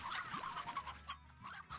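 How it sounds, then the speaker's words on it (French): Chickens clucking in the video game Slime Rancher, a quick run of soft, bright clucks and squawks at low volume with no talk. "Oh, le nombre de poules qu'il y a."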